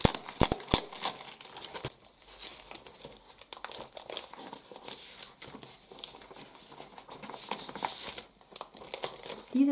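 Thin vellum paper crinkles and rustles close by in repeated handling, sharp crackles and soft crumpling noises coming in irregular bursts.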